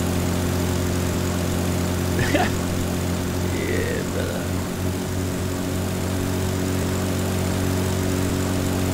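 Steady drone of a propeller plane engine in a flight simulator game, holding constant and loud throughout, with someone talking briefly over it.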